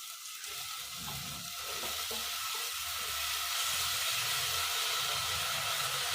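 Sabudana tapioca pearls frying in hot oil, a steady bright sizzle and hiss that swells as they settle, with soft stirring scrapes mixed in and no talking.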